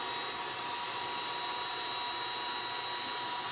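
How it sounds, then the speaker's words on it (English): A hair dryer on its low setting blows steadily while heating a vinyl hood scoop overlay decal on a Toyota Tacoma or 4Runner, a constant even whir with a faint high tonal whine. "You're going to want to get your hair dryer out now at this point."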